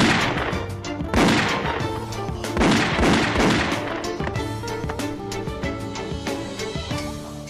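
A pistol is fired in a violent film scene, with several loud, sharp bangs spaced a second or two apart over a dense soundtrack.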